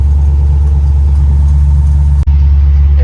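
Lowered Chevrolet C10 pickup riding on front bump stops with no rear shocks, a loud steady low engine and road rumble from inside the cab, with one brief dropout near the end.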